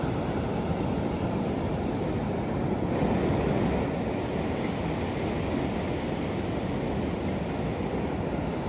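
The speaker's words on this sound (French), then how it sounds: "Le son des vagues." Ocean waves rolling onto a beach near Cape Scott, a steady broadband wash of surf with wind buffeting the microphone, continuous and fairly loud with no voices.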